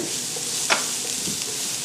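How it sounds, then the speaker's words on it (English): Vegetables, including carrots, sizzle steadily in a tablespoon of oil in a pan, a continuous close frying hiss with a brief utensil scrape or stir near the middle. "the vegetables are sizzling, we can add the mussels"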